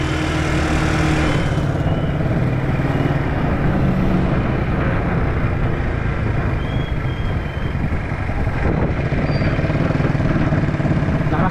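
A motorcycle rides along the road, its engine a loud, continuous drone with a steady rumble that stays close and fills the whole stretch, with no talking over it.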